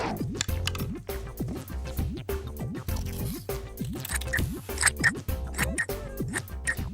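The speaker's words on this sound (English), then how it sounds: "Now we need to cut this shape out, but be careful because scissors are sharp." Quick snipping cuts of scissors through paper repeat steadily, blending with light plucky background music throughout.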